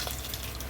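Curry leaves hit hot oil for a tempering of asafoetida, mustard seeds and cumin over a wood-fired stove, making a brief, dense hiss that stays even and fairly loud.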